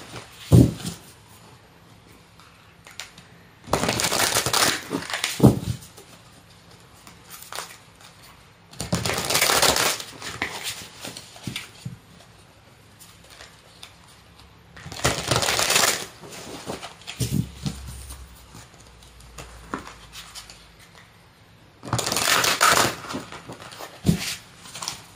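Tarot cards shuffled in four loud, dense riffling bursts of about two seconds each, separated by quieter stretches of soft handling and cards being laid out, close and with no talking.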